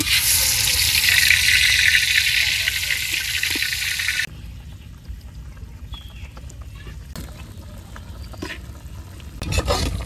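Fish frying in a pan in a Bengali home kitchen: a loud, dense sizzle fills the first four seconds, then drops away to quieter kitchen clatter and scattered clicks.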